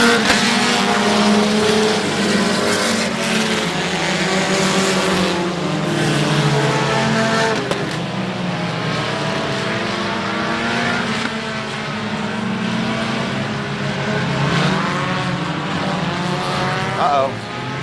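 Race cars at South Texas Speedway during a race on a damp track, engines roaring loud and close as they accelerate and pass, the pitch shifting with each car, with a commentator talking over them.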